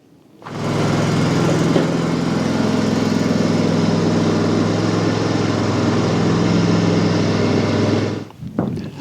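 A John Deere X530 lawn tractor engine starts and runs at a steady, loud, even drone for about eight seconds before cutting off, close by and with no talking.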